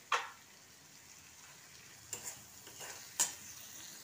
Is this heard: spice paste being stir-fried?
yes